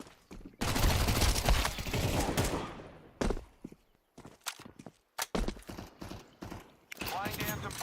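Gunfire in Counter-Strike 2, a heavy burst of rapid shots followed by scattered single shots and footsteps, with a player talking briefly between them.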